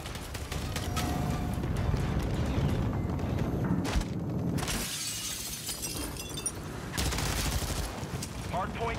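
Automatic gunfire in Call of Duty: Modern Warfare 3 rattles almost continuously, dense and loud with crashing impacts and a sharp break of glass midway, while a player talks over it.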